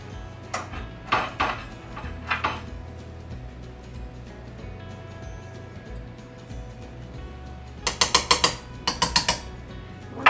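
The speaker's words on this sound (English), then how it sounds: "Stir this up real well" Thick tomato paste stirred into a pot of ziti sauce, with a spoon clinking and scraping against the metal pot in short bursts, quiet between them, then a quick run of louder rattling clacks near the end.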